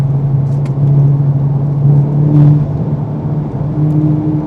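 A Volkswagen Golf GTI's engine idles with a low steady drone, then revs up briefly a couple of times through its remote-controlled exhaust, rising and falling, close by with no talking.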